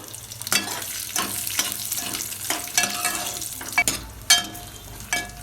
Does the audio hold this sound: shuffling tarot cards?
no